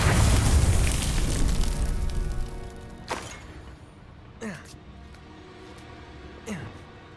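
Confringo fire spell from Hogwarts Legacy: loud booming blasts of magic in play, the first a sustained rumbling explosion followed by three sharper bursts with fading tails.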